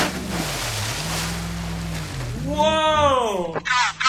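A vehicle plunges into deep water in the BeamNG.drive driving game, giving a broad rushing, splashing wash for a couple of seconds. An excited voice then cuts in loudly over the fading water noise.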